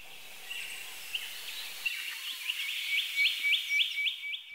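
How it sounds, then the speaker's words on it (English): High, thin calls of a spotted quail-thrush in a quiet forest, building into a quick series of repeated sharp notes near the end. "I videoed this pair of quail thrush in the months before the fires."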